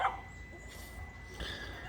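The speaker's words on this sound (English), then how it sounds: "It's a barker for sure." An excited dog in the Philippines gives a few faint barks and yips at a distance, with short bursts at the start and again near the end over quiet background noise, and no one speaks.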